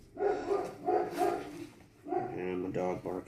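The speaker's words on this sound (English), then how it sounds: "And my dog barking in the back and ruining the video" A pet dog barks a few times in the background while someone talks about a survival signaling kit, the barks partly mixed with his speech.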